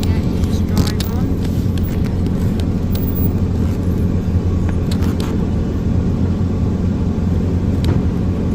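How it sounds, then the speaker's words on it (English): A car rolling onto a small ferry boat at a river crossing; a steady, loud engine and road rumble that fills the whole stretch, with faint clatter on top. "we're just now driving onto the ferry boat"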